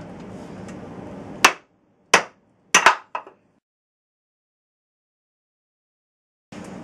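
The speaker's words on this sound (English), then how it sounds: "Just use a hammer and a punch." A hammer strikes a punch to drive a wooden handle out of an axe head: four sharp metallic blows, the first loud, the next three spaced irregularly, each ringing briefly before silence.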